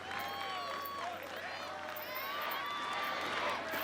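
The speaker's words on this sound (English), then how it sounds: "Crowd cheering on Evan the Rocket Dollard." Crowd cheering on Ninja Warrior competitor Evan Dollard at the Venice Beach finals: a sustained, fairly distant roar of voices and whistles with excited yells rising over a steady background din.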